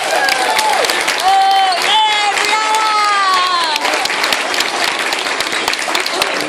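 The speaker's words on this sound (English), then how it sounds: "Round of applause for them last time." A school audience gives the student performers a loud round of applause, thick clapping mixed with cheering and raised voices, with whistled or sung tones rising above the crowd early on.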